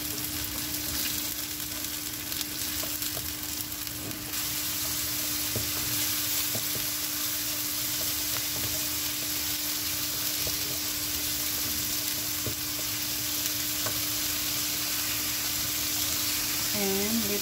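Onion fries in a pan for a long stretch, giving a continuous dense sizzle with occasional scrapes of stirring; steady and close, with a constant low hum underneath and no clear speech.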